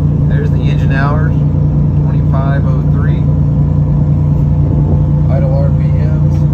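Twin engines of a 1987 Bertram 37 boat idle cold after restarting, a loud, steady, close rumble with a strong constant hum, while someone talks over it intermittently.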